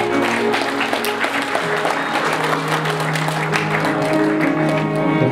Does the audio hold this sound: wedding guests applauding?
yes